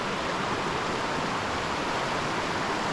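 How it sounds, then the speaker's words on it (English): Constant broadband rush of the Hoh River flowing past a campsite in Olympic National Park, even and unbroken throughout, with nothing else audible. "It's gonna be nice to have this sound of the river as our serenade to go to sleep tonight."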